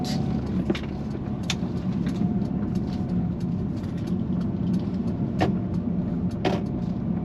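A Mercedes-AMG A35 hatchback (W177) driving around a roundabout, heard from inside as a steady, moderately loud engine and road drone with a few faint clicks and knocks over it.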